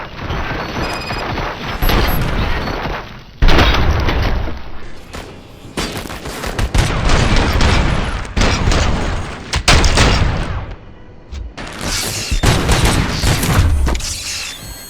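Sustained gunfire volley in RoboCop: Rogue City, dense bursts of shots and heavy booms rolling on loudly for the whole stretch with brief lulls, mechanical clatter and crashes mixed in.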